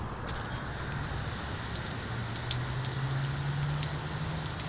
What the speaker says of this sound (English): what we're doing right now is we're trying to simulate rainfall. So I've got a hose